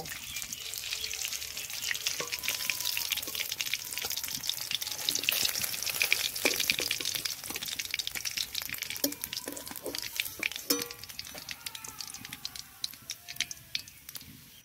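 Pieces of rui fish fry in hot oil in a pan, a continuous sizzle crackling with frequent sharp spits and pops that grow busier toward the end.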